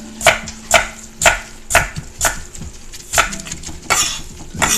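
Mushrooms are stirred in a cooking pot for a mushroom, cabbage and lentil soup, with a spoon scraping and knocking against the pot in regular strokes about once a second over a faint sizzle.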